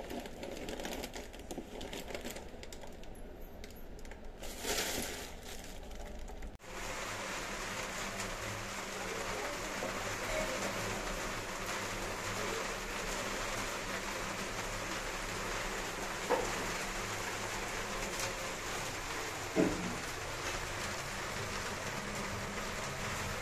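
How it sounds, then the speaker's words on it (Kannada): Steady rainwater pouring and streaming down outside a house, a continuous dense wash of water that swells in around the midpoint and keeps running evenly, with a couple of brief louder splashes later. "ಮಳೆ ನೀರು ನೋಡಿರಿ ಫ್ರೆಂಡ್ಸ್ ಯಾವ ರೀತಿ ಇಳಿತಾ ಇದೆ ಅಂತ"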